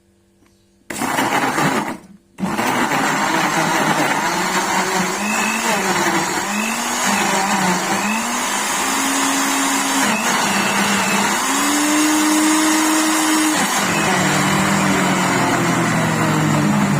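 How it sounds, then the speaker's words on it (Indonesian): A blender whirs steadily as it blends a potato mixture with liquid milk for homemade potato strudel filling, a loud continuous motor drone with shifting pitch after a brief start-stop at the beginning. "Kemudian kita blender."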